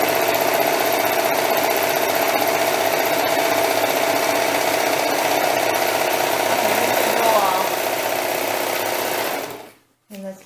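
A sewing machine runs steadily while stitching a strip of chiffon, a continuous close mechanical whir that holds for about nine seconds and then stops abruptly.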